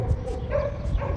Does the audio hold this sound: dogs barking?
yes